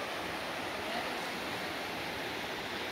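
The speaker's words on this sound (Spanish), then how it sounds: "Ahí está el río." The Mapán River, which flows down toward the Coyolate in rural countryside, gives a continuous broadband rush of flowing water, steady and moderately faint, with no voices.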